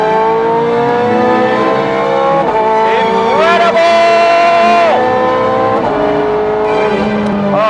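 A Ferrari 430 Scuderia engine revs hard toward 8,500 RPM. It is a loud, screaming mid-engine wail that climbs and drops several times in sharp gear-change sweeps, and there is no other sound over it.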